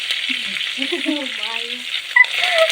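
A steady, bright sizzle of curry leaves crackling in hot oil for tempering, with a faint voice briefly murmuring underneath.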